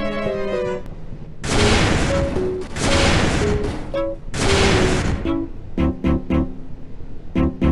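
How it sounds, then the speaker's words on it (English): Mauser C96 pistol fired in the Melon Sandbox video game: three long, loud bursts of rapid gunfire, then a few separate sharp shots near the end, with no one talking. "Mauser C96 firing test."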